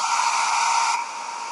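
A BHC010 hair dryer runs on its first speed setting with a steady, loud airflow whoosh and motor whine, its pitch and level dropping slightly partway through.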